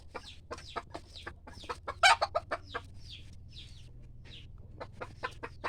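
Young hens, freshly caught and caged, clucking in short, repeated bursts close by, with a few sharper squawks in the middle and a steady low hum underneath.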